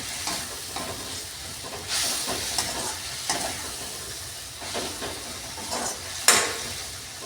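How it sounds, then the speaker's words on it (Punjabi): Spices roast in a pan for a dry arbi (taro root) sabzi, a steady close sizzle broken by repeated scraping stirs and occasional sharper clinks of the spoon, with no voices. "ਹੁਣ ਆਪਾਂ ਇਹਨੂੰ ਭੁੰਨ ਲੈਣਾ ਆਪਾਂ ਮਸਾਲਿਆਂ ਨੂੰ"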